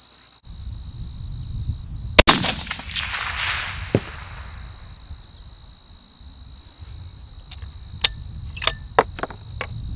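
A rifle fires a single sharp, loud shot with Berger VLD bullets on an outdoor range, ringing briefly over steady insect chirping, then lighter clicks follow.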